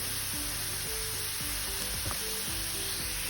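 Onions cooking in a covered pan over a slow flame, giving a steady, soft, continuous hiss of sizzling with faint background tones and no voices.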